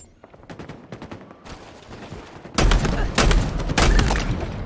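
Bulldog shotgun blasts from a women's Halo esports match, three loud heavy booming shots in quick succession following lighter gunfire, with a commentator talking over the action.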